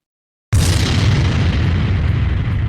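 A sudden, loud explosion bursts in after half a second of silence, and its heavy, rumbling roar carries on without a break to the end.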